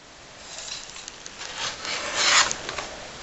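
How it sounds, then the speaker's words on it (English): A green paper strip is trimmed down to one inch wide for a graduation card, giving a steady, close rubbing, rasping slide of a paper trimmer blade that builds slightly louder before easing off. "I think I'm actually going to only trim it down a teeny bit"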